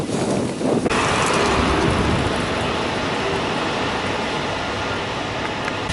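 Strong, constant wind roars across the microphone outdoors in St. Petersburg, loud and unbroken for the whole stretch.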